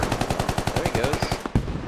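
Rapid machine gun fire in a military shooter video game, a fast, evenly spaced burst of loud, close shots rattling continuously before a brief pause and a heavier final crack.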